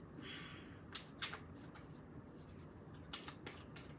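Tarot cards are shuffled and pulled from a deck, giving crisp papery riffles and flicks in irregular bursts, close and fairly quiet, with no talking.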